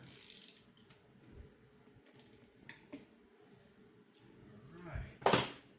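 A wrench tightens the spark plug on a 3200W dual fuel propane and gas inverter generator, giving sparse ratcheting clicks and metallic knocks up close, ending in a louder scrape and clank.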